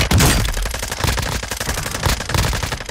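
Rapid automatic gunfire from a Call of Duty: Modern Warfare II match, loud and close, with dense bursts of shots rattling continuously from start to finish and no talk over them.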